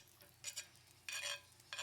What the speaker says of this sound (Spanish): vamos a agregar nuestra cebolla con un chorrito de aceite para que se vaya friendo